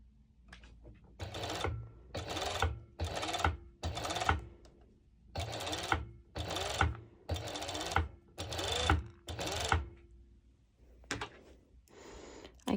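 A sewing machine stitches elastic onto a bikini top in about ten short bursts of rapid mechanical whirring, separated by brief pauses; close and clear with no talking.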